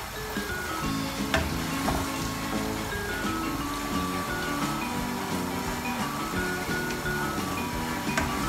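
Spaghetti and other ingredients stirred together in a hot sizzling pan, with a steady close fry hiss and occasional scrapes and clinks of the utensil throughout.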